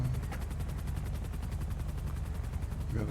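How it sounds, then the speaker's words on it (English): A helicopter in a video game roleplay server gives a continuous, rapid rotor chop, steady and moderately loud throughout, with no one talking. "Got a helicopter somewhere."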